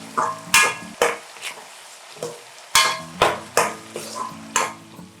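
A ladle knocks and scrapes in a pan while sautéing a tamarind juice mixture for variety rice, a series of distinct sharp clanks at uneven intervals with a ringing metallic tail, close up.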